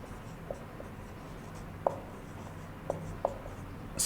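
A pen writes on paper during a lesson on the powers of the President of India, with faint scratching and a few sharp taps as strokes land, close but quiet over a soft background hiss, no talk.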